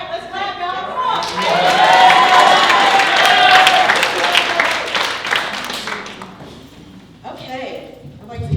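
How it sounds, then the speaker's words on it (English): An audience at a small business awards event in Warren County, North Carolina claps, loud, scattered clapping that swells for several seconds under a voice and cheering, then thins out as someone starts talking again. "All right, let's clap, y'all."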